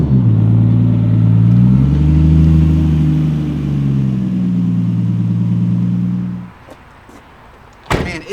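An 800-horsepower Nissan R34 revs hard and accelerates with a loud, close engine note that rises and shifts through gears for about six seconds, then drops away, followed by a couple of short knocks.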